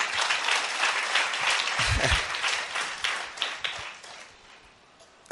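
A church audience claps in sustained, dense applause that fades gradually toward the end.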